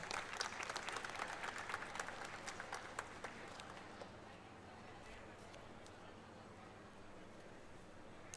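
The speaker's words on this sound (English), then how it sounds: "A big round of applause." Audience applause at a university convocation ceremony, dense rapid clapping from a large crowd that is loud at first and then fades into a quieter murmur.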